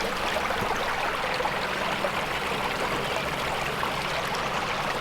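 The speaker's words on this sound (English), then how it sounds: "Creek is flowing good." A farm creek flowing strongly, a steady close rushing and gurgling of water with no breaks and no voices.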